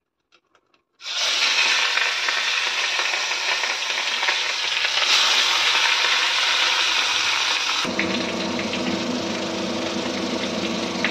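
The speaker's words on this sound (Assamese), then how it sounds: "আলু পিঁয়াজে ভাজি লওঁ।" Potatoes and onions sizzle in hot oil in a pan, a loud steady frying hiss that starts suddenly after a few light taps and continues without pause, with no talking.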